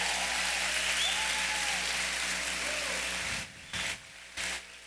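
A congregation at a Sunday church service applauds in a steady, dense wash of clapping that suddenly drops away, leaving a couple of brief short bursts at the end.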